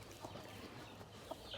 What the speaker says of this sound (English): The chickens think they want some too.